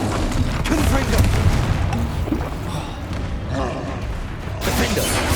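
Confringo fire spell in Hogwarts Legacy going off amid combat, a dense rumbling boom-heavy wash with repeated thuds and blasts layered over continuous battle noise and voices.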